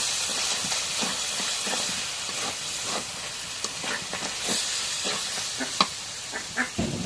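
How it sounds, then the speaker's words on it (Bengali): Water goes into a pan of sizzling desi chicken curry, raising a steady hiss of steam and frying with clinks and scrapes from a spoon against the pan. "এখন কষারি হয়ে যাচ্ছে, ঝুলে পানি দিই।"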